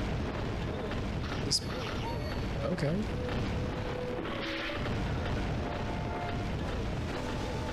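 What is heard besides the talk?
crates rising and falling with booms, Scooby-Doo Night of 100 Frights video game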